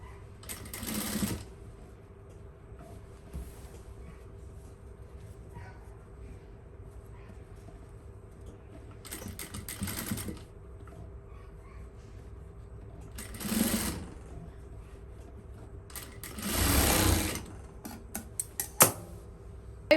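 A sewing machine stitches the round neckline of a fashion dress in several separate short bursts, with quiet gaps between runs and faint fabric handling.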